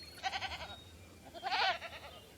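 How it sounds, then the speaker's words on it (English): Goats penned on a volcanic island in Jurassic World Evolution bleat twice, a wavering cry followed by a louder, brighter one a second later, both close and clear over a quiet ambient bed. "there is a pen filled with goats"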